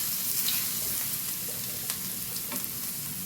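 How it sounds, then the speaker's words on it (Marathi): Crushed garlic frying in hot oil in a pan for stuffed brinjal, a close, even sizzle with light stirring taps and scrapes. "तेल गरम झाल्यानंतर यामध्ये आपण ठेचलेला लसूण घालूया."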